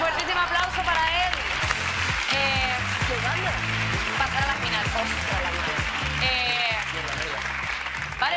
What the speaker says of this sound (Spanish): un fuertísimo aplauso para él